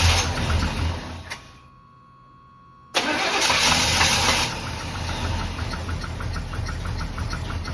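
An abandoned barn-find square body Chevy truck in freezing, zero-degree cold: the starter cranks loudly and close, drops into a brief quiet pause, then the engine bursts into a loud, steady run.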